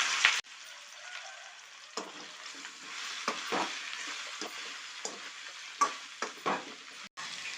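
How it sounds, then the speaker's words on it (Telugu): Vegetables stirred into a sizzling pan with ginger, salt and turmeric for a raw mango sambar, a steady frying hiss broken by repeated scraping strokes of a spoon, close and moderately loud, with no talking. "కలుపుకున్నాక కూరగాయలు వేసేద్దాం"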